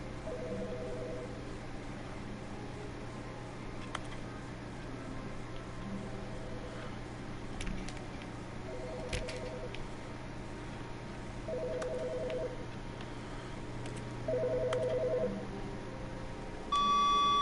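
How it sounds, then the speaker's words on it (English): Telephone in The Stanley Parable video game, a series of short electronic tones and beeps over a steady low hum and hiss, faint and evenly spaced, with no talk. "is that a phone?"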